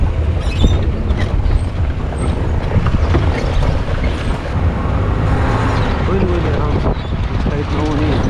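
An off-road safari vehicle drives over the rocky Jawai hills on a leopard safari, its engine a loud, steady, rumbling drone with rattles, heard close under a voice talking.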